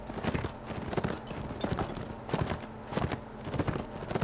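Horses' hooves in the video game Mount & Blade: Warband, a steady run of clip-clop beats with repeated gallop-like clusters at a moderate level, heard alone without talk.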